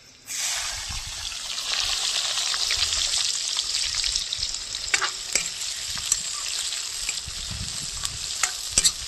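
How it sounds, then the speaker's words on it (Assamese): Chopped onions dropped into hot oil with whole garam masala, cumin and green chilies, giving a loud, steady sizzle of frying with occasional stirring clicks from a utensil in the pan, no voices. "এতিয়া দি ল'ম মই কাটি থোৱা পিঁয়াজ"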